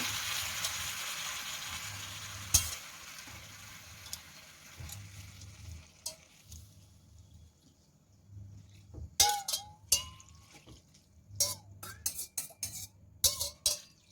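Soaked glass noodles and shrimp in a pan sizzle faintly, with a low burbling hiss underneath and, later on, several sharp clinks and scrapes of a utensil against the pan.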